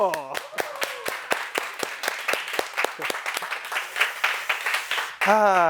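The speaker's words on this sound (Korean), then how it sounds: "박수!" A dozen or so distinct hand claps, spaced fairly evenly like a small group clapping along, ring out close and clear, with a speaking voice just before and after.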